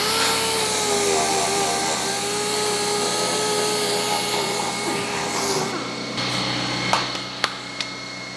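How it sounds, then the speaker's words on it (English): A power sander works dried body filler on a 1987 Mazda RX7, a steady close whirring drone that runs for several seconds, then cuts off and leaves a few sharp knocks. "So I'm gonna hit it with the sander"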